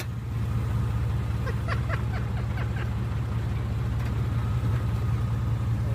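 A car reverses and then speeds up, giving a steady engine rumble throughout with a brief scattered clatter partway through. A voice speaks faintly under the engine.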